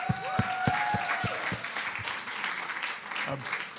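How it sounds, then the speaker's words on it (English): An audience applauds steadily, a broad wash of clapping that continues throughout, with a few louder claps near the start. "So I want to call out David and give David a big round of applause as well."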